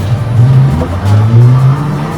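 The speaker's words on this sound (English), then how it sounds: "You heard that? I'm sorry, that car." A car passes nearby on wet, rainy streets, its engine rising and falling in pitch as it approaches and moves away, loud and close, with no talking over it.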